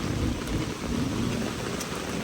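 Heavy rain pours steadily during a mountain hike, a dense continuous wash with low rumbling underneath, close and loud throughout with no talking.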